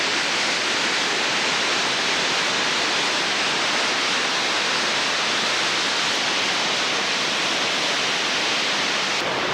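Rain pouring steadily onto the dense tree canopy of the El Yunque rainforest in Puerto Rico, a continuous even hiss of countless drops, loud and unbroken throughout, with no voices.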